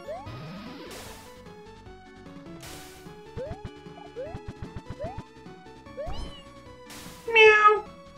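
Cartoonish cat meows from the video game A2XT2, several rising chirpy mews spread out with a louder, busier crash-like burst near the end, no talking.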